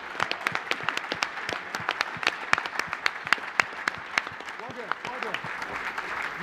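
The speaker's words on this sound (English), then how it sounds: "I'd like every single person to give Wagger and Kim a big round of applause" A television studio audience on a rugby magazine show gives a couple a big round of applause, with steady, crisp clapping throughout and some voices mixed in beneath.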